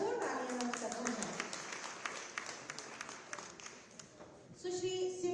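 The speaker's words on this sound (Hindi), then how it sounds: "आप सभी भरपूर तालियां करते हैं।" Light applause from a small crowd at an awards ceremony, a scattering of claps going on for several seconds with a voice speaking over it.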